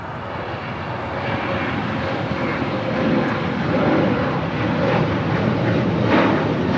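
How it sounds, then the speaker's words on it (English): An Emirates airliner takes off from the north side of Los Angeles International Airport, its engines giving a steady, loud, broad roar that swells slightly as the jet accelerates down the runway. "Takeoff on the north side."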